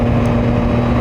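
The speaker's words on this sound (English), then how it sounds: "The CP3 engine, it's so good." A motorcycle with a CP3 three-cylinder engine runs steadily, a loud close engine drone with a strong low hum, heard alone over a short stretch.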